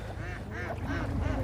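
Ducks quack repeatedly in a large enclosed shed farm of about 4000 birds, a close run of four loud nasal quacks in steady rhythm over a low murmur of the flock.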